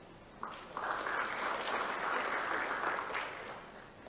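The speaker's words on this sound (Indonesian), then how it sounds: "Tepuk tangan untuk diri kamu sendiri" Applause breaks out at a graduation ceremony of an academic senate session in Jayapura, swelling quickly into steady clapping from the gathered crowd, then tapering slightly near the end.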